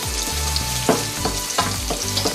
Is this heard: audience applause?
no